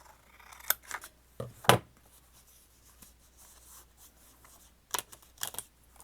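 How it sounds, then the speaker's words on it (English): Scissors cutting out a small paper figure, a few crisp snips scattered among quiet paper rustling, close and fairly soft, with longer gaps between the cuts. "Let's cut him out."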